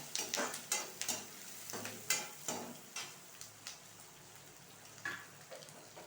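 Onions and spices frying in a pan for mango rice, with turmeric powder added: a steady soft sizzle broken by repeated scraping stirs of a spoon, close and fairly quiet, without talk.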